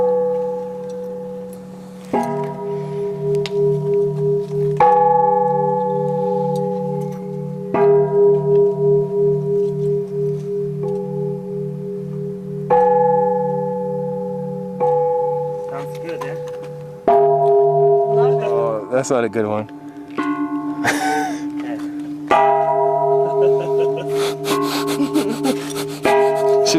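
Temple bells in Mae Hong Son, Thailand, are struck one after another, each ringing tone sustaining and fading before the next. The strikes turn quicker and clash together toward the end, with brief speech in between.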